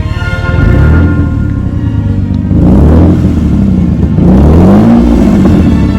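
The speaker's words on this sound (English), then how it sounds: "so first drive when I hear it rev" A rebuilt Lexus IS300's engine revs on its first drive, with three loud rising surges of engine note climbing and falling over a steady running drone, close and alone without talk.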